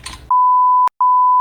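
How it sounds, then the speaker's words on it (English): A loud steady censor bleep tone cuts in after a brief burst of speech, running continuously with one short gap and a quick restart. "I'm gonna keep that in and just bleep it completely"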